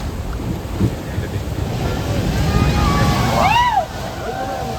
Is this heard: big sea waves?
yes